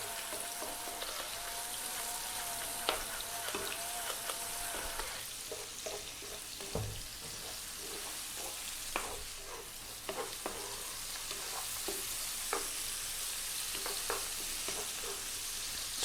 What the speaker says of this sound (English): on an above medium heat, let's just throw this around just for about 3 minutes